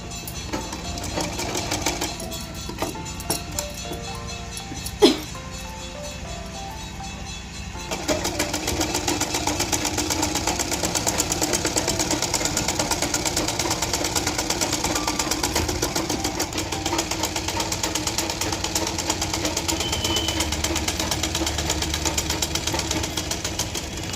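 A sewing machine stitches a cross-cut blouse, running in a fast, steady mechanical whir for most of the stretch after a quieter start with a single sharp click.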